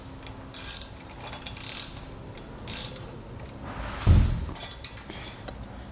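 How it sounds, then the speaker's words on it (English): A wrench tightens a lock nut on a tongue-mounted trailer crossbar for a Malone MicroSport, giving several close, short ratcheting clicks and rasps with a brief louder metallic clunk partway through. "we'll take our wrench and begin to tighten it down"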